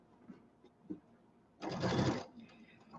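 A sewing machine stitches around the edge of a settee pillow in one brief burst of dense motor whirring, preceded and followed by quiet handling sounds.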